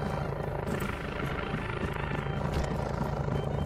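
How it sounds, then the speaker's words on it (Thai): A helicopter approaches in the mobile zombie-survival game Mission EVO, its dense rotor roar steady and loud throughout, with no talk over it. "เฮ้ยคอปเตอร์มาว่ะ"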